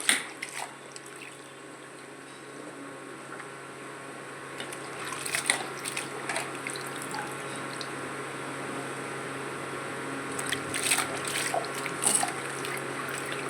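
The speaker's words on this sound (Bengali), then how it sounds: "এখানে বাঁধাকপিগুলো আমি কুচি কুচি করে কেটে নিয়ে ধুয়ে নিচ্ছি" Chopped cabbage being rinsed under running tap water in a sink, a steady hissing stream with soft splashing and occasional louder bursts as the shreds are handled.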